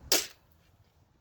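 A Worker Caliburn foam dart blaster fires half darts, giving a single sharp, short pop near the start followed by quiet.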